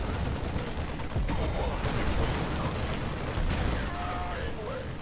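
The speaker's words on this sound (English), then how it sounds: "Shoot the railgun." Heavy weapon fire from a railgun in the StarCraft 2 Nova missions, a dense, sustained roar of blasts and rumbling explosions that fills the whole stretch with no let-up.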